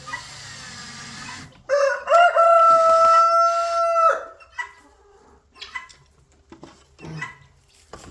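A rooster crows loudly once at a barn chicken coop, a long harmonic call, followed by scattered softer clucks from chickens and bird sounds close by.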